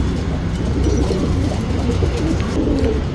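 Copper-coloured male tournament pigeon cooing, its low throaty burbles repeating steadily and close by, with no voices over them.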